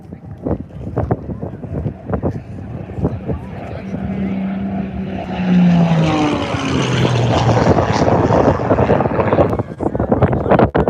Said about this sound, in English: And they had a head-on from the stunt plane.